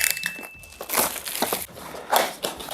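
Foil wrappers of Liverpool team set trading card packs crinkle and tear open up close, a loud irregular crackling with a short tone at the start.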